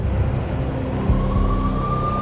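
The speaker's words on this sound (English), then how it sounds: "The NYPD was closing in. I could hear the sirens. Their wail was a crescendo." Police sirens in the Max Payne video game, a faint rising wail emerging partway through over a loud, low vehicle rumble and city drone.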